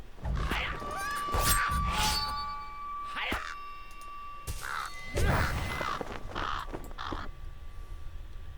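Harsh bird caws ring out repeatedly inside a Lord of the Rings video game, several loud cries in quick succession over steady game ambience, with a thin tonal hum running underneath.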